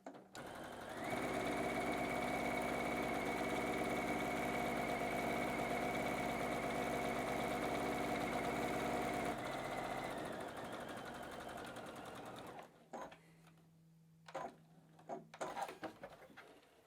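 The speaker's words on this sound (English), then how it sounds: "now I'm going to top stitch this down nice" A sewing machine runs steadily while top stitching down an apron hem, a continuous buzzing hum for several seconds that stops, followed by quieter handling noises and a brief low tone.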